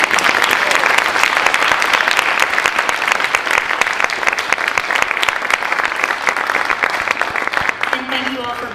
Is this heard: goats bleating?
no